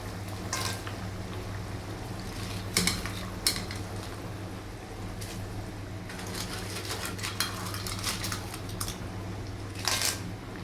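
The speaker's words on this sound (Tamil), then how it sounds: "என்னடா அங்கே ஜல்லிக்கல் பொறுக்கிற சத்தம் ஜல்லிக்கல் இல்லைம்மா அது நண்டு" Raw crabs are dropped one by one into a cooking pot and stirred, giving irregular hard clacks and rattles of shells against metal over a low steady background hum, with a few sharper knocks near the middle and end.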